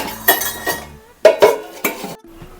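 Metal lid clattering onto a cooking pot of chapati gravy after water is stirred in, a few sharp clinks and knocks of metal on metal, close and fairly loud, with brief pauses between them.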